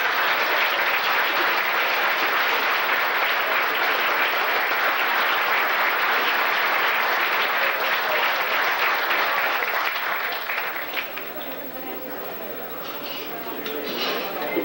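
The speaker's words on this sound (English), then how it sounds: "How about a round of applause for Hoppy Jensen?" Audience at a club dinner banquet applauding, a dense, sustained wash of clapping that holds steady for about ten seconds and then thins slightly while continuing, with some crowd chatter mixed in.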